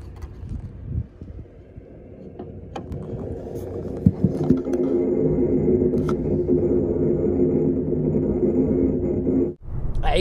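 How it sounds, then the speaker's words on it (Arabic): A steady rumbling air noise inside the fuel tank of a Mercedes-Benz A200, recorded close to the tank, with a bubbling, boiling-like wash building over the first seconds and then holding constant. "صوت هواء مزعج جدا داخل تانك البنزين، وكأنك تسمع صوت غليان للبنزين."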